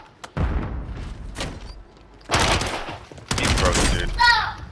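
Gunshots in a shooter video game, sharp bursts landing in short volleys with quieter stretches between them, sounding close and loud.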